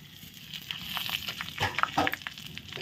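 Spiced paneer curry masala, chilli and turmeric powder with salt, frying in hot oil in a pan, a steady close sizzle with a few brief clatters of stirring, no talking.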